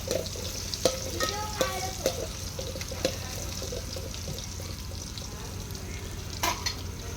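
Green chillies fry in hot oil for a crab curry, a close, steady crackling sizzle broken by scattered clinks and scrapes of a stirring spoon against the pan.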